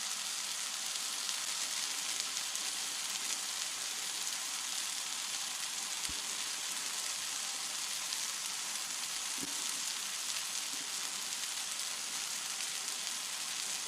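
Jimmy Dean hot pork sausage frying in a pan for breakfast, a steady, even sizzle with fine crackling throughout and a couple of faint pops, heard alone.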